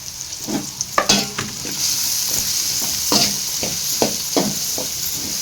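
Chopped onions frying in a pan for chicken fry, a steady sizzle under repeated scraping stirring strokes close up, with no talk.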